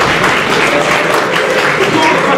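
Dense, loud applause from students in a university lecture hall, a continuous wash of clapping with voices blended in throughout.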